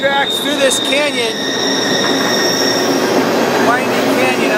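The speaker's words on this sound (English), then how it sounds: "This is wild country this train's passing through" Freight train wheels roll and squeal sharply along canyon tracks, a close, steady rumble with high metallic whines near the start and end and brief speech mixed in.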